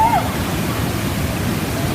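YS Falls in St. Elizabeth, Jamaica pours in a constant broadband rush of falling water heard close up, with a short high whistle-like tone at the start.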